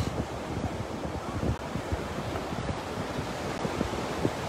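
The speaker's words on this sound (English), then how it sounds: "I don't know if you can hear the beach or not, but it is fantastic." Atlantic Ocean surf rolls onto a beach in a steady wash of broadband noise, with strong wind buffeting the microphone throughout and no voices.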